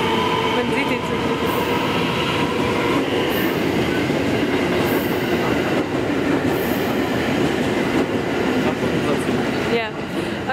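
A train runs past in Kyoto, Japan, a loud continuous rumble and rattle of carriages with faint clickety-clack and a brief squeal near the end, voices faintly audible underneath.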